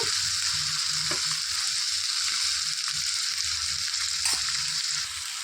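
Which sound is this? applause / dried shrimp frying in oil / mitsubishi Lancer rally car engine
dried shrimp frying in oil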